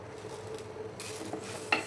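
A spoon scrapes and stirs moong dal as it dry-roasts in a pan, soft scratchy strokes with a faint sizzle and a sharper clink of metal near the end.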